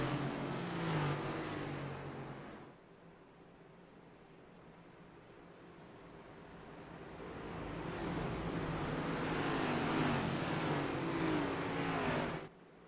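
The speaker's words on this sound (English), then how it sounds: "Cars filing through the third and fourth corner." Race cars circle Daytona International Speedway in a racing video game, engine roar rising, dipping as the pack moves away, then swelling again before cutting off abruptly.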